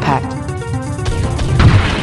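A missile impact in the space-combat game Privateer 2 erupts as a loud, crunching explosion with booming low rumble, rising toward the end over a steady engine hum.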